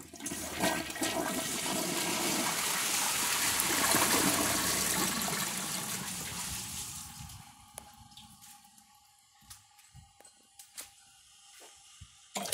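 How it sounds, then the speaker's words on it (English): Two Kohler toilets, an Ingenium and a Class 5, flush with plain water, giving a loud rushing swirl for about seven seconds that then settles into quiet trickles and scattered drips as the tanks refill. "I'm going to flush them both with nothing in them except water"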